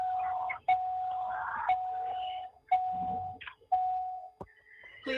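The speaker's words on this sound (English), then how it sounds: "now we got bells ringing" A doorbell rings repeatedly during an online committee meeting, its sustained electronic tone sounding over and over at moderate volume, broken by brief clicks and faint background noise.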